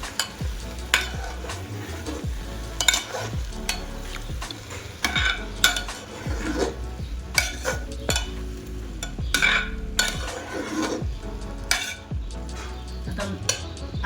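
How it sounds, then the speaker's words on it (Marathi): A spoon stirs gravy into vegetable biryani inside a pressure cooker, with repeated scraping and knocking of metal against the pot and a soft sizzle underneath, close up and uneven in rhythm. "ती ग्रेव्ही टाकून घेते सगळी, चांगली मिक्स करून घ्या."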